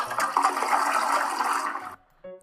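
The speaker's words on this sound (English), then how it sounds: "Good job flushing." A toilet flushes close by with a loud rushing swirl of water that cuts off abruptly, followed by a faint refill trickle. No voices are heard.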